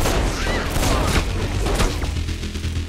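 Gunfire in Saints Row IV, rapid bursts of shots and booms packed over a loud, continuous game soundscape, close and dense throughout.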